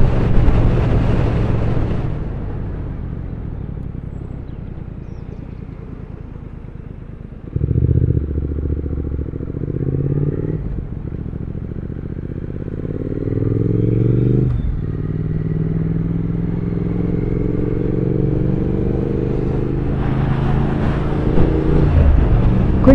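A 2023 Triumph Speed Twin retro motorcycle cruising at 50 mph, its engine drone rising and shifting through gear changes under steady wind rush, close and loud from the rider's position.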